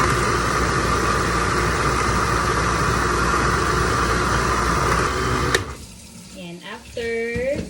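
A loud, steady Tough Mama blender whirrs for several seconds pureeing, then cuts off abruptly, leaving a quieter stretch with someone talking.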